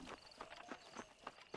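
Horse hooves clip-clop in the Red Dead Redemption video game, a steady walking rhythm of crisp, evenly spaced knocks, close and fairly quiet, without talk over them.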